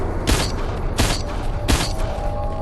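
Gunfire in a zombie video game, three loud booming shots spaced evenly apart over a steady, dense background of game noise.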